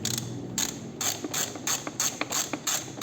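A ratchet clicks in quick repeated bursts while loosening the brake caliper bolts on a Yamaha Fazer 600 motorcycle, each sweep a crisp close ratcheting rattle with short pauses between strokes.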